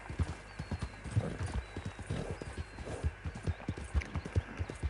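Horses walking with riders on a hunting trip in Austria, hooves clip-clopping in a steady uneven rhythm close by, with a brief whinny and no talk.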